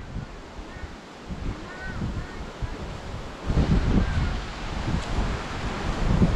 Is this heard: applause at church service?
no